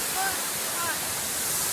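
A waterfall at a swimming spot roars as a dense, steady hiss of falling water, loud and close, with no other clear sounds.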